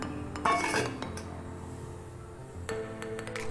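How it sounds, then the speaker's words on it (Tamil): Metal clanks and clinks of a lid set onto a pot of simmering white pumpkin gravy, a sharp clatter at the start and another near the end, with quiet kitchen background between. "இப்போ இதை மூடி போட்டு மூடி வச்சுக்கலாம்"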